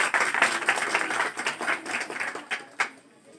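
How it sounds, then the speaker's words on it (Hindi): An audience claps loudly together at a live speech event, a dense round of hand claps that holds steady and then thins out into a few last scattered claps. "एक बार जोरदार ताली।"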